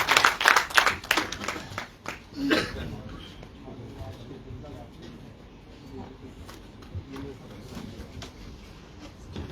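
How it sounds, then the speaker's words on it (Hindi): An audience at a Maharshi Valmiki celebration programme bursts into brisk clapping that is loud for the first couple of seconds, then thins out and fades to faint scattered claps beneath low murmuring and a nearby voice. "जोरदार तालियों से सपोर्ट करेंगे।"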